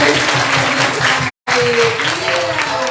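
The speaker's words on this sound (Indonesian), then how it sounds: "tepuk tangan dulu dong" Children's audience at a Christmas event clapping in a steady, loud burst of applause, briefly cut off by a short gap before resuming, with voices faintly mixed in.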